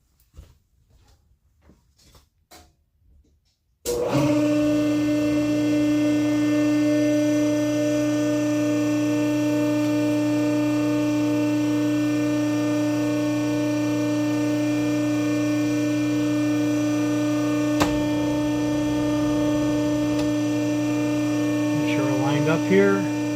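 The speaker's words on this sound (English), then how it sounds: "I'll turn on the pump. It's kind of loud." A homemade hydraulic bearing press switches on its pump, which runs in a loud, steady droning hum; the pump is pressing out a dirt bike steering stem. Faint handling noises come before it starts, and a light clack sounds partway through.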